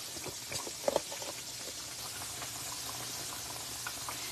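Hot grease frying pork chops, a continuous bubbling sizzle with faint crackles and a couple of small clicks, steady and close with no talking.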